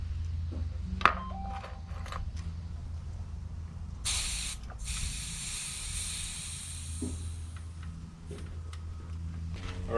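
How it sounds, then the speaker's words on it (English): Air escapes from the chamber of a Fox 36 Float mountain bike fork as it is depressurized: a sharp hiss lasting under a second, set among faint clicks and handling noises over a low background hum. "Depressurize the system."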